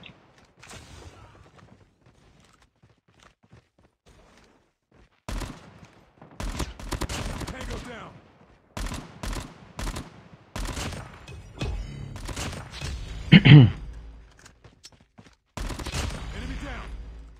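Call of Duty weapon fire, a few separated bursts of loud close shots breaking through quiet stretches, mixed with game effects and some speech.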